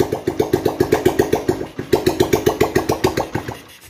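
A CB, GL or Tiger motorcycle engine cranking and starting after a starter spring replacement, with a steady rapid chugging pulse that dips briefly midway and then resumes, loud and close with no talk.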